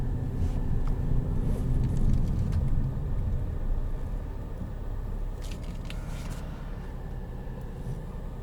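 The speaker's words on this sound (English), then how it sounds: "time ever driving a Lincoln." Steady low road rumble and tire noise inside the cabin of a 2017 Lincoln Continental Premier with 24,000 miles while driving, a continuous muffled drone with faint crackles and no talking.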